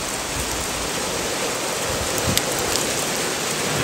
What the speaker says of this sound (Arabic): هذا شوفوا البرد، شوفوا البرد.